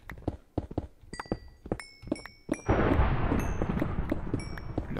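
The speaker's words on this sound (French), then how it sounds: "Tempête qui est là." A Minecraft thunderstorm with a rumbling thunder roll that swells and sustains loudly after a series of sharp in-game thumps and clicks, with bright chime-like game tones scattered over it.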